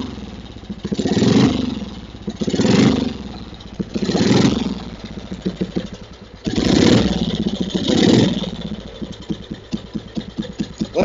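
An old single-cylinder Velocette MK2 KTS/KSS motorcycle engine chugs and ticks over close by, its rapid thumping swelling in repeated revs with mechanical clatter.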